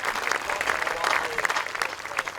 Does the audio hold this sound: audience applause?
yes